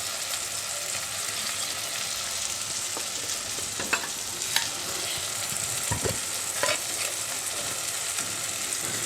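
Food fries with salt and turmeric in a hot pan, a dense continuous sizzle close up, broken by occasional scraping stirs and a few sharper clicks of the spoon.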